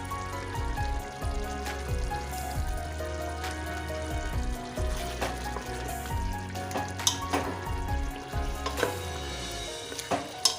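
Mutton bhuna frying with garam masala in a pan gives a close, continuous sizzle with intermittent stirring scrapes and clatter, alone without talk.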